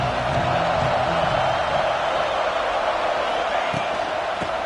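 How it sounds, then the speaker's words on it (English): A stadium crowd in a college football video game roars as a steady, broad background wash while a play-by-play commentator talks over it. "This crowd bringing the energy and noise early."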